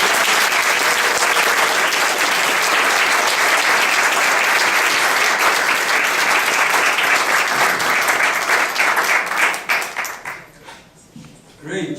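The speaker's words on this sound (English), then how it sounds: "Let's give her a hand of applause." An audience applauds after a swearing-in ceremony, with thick, sustained clapping from many people that holds evenly for about ten seconds, then thins out and fades near the end as a voice begins speaking.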